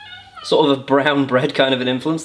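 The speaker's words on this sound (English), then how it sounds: "That's the cat coming in." A house cat meows as it comes into the room, a few short tonal cries heard clearly under someone talking nearby.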